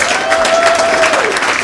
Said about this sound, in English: clap it up for the servers